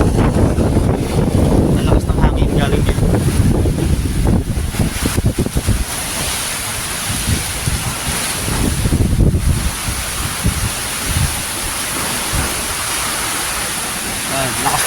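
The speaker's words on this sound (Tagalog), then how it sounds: "Oh, ang lakas ng hangin, di ba?" Strong gusting typhoon wind in Leyte roars across the microphone with a broad rushing noise, heaviest in the first half, while a voice speaks intermittently beneath it.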